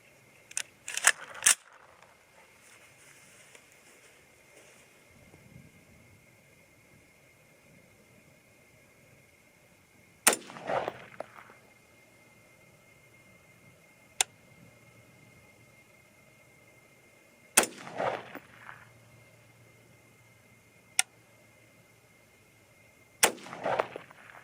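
A .223 Remington AR-15 rifle fires four sharp, loud single shots spaced several seconds apart, each followed by a short clatter and ringing decay. Quiet background sits between the shots.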